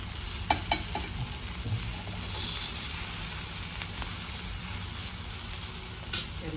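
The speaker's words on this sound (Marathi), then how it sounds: "अशा रीतीने मी सगळे कबाब पलटवून घेते." Elephant yam kababs fry in a pan with a steady close sizzle, punctuated by a few soft clicks and taps as a spatula turns them over.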